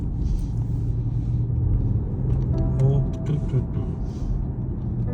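An Audi A7 pulls ahead from inside the cabin, giving a low steady engine rumble with road noise that swells slightly midway, and a few faint clicks are heard.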